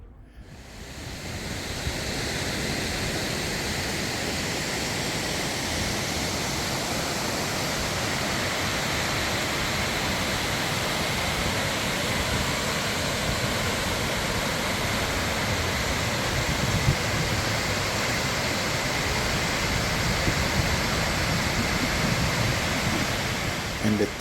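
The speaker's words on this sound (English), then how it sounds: "Beautiful waterfall, beautiful mountainside." A waterfall by a mountainside at a botanical garden pours in a steady, even wash of rushing water that fills the whole stretch at moderate level.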